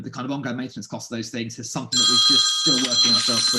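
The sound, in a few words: mobile phone ringing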